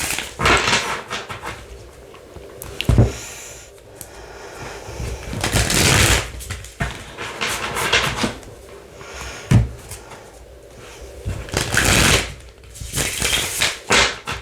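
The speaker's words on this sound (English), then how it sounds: "I'm going to do 3 shuffles" Repeated riffling bursts of tarot cards being shuffled, several rounds separated by short pauses, with occasional taps and knocks nearby.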